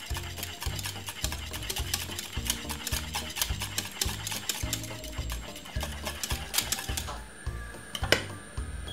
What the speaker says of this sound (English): Give me a stir.